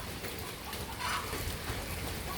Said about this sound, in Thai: ฝนตกบรรยากาศเนาะ